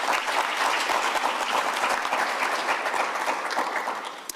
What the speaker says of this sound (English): May we please give them a big round of applause.